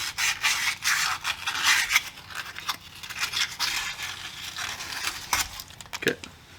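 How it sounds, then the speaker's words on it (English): Sandpaper scrubs rust from inside the ball joint bore of a 2015+ Subaru WRX steering knuckle, giving a steady, close rasping rub in uneven strokes, with a brief clunk near the end. "Just trying to sand out some of that rust that had it seized in."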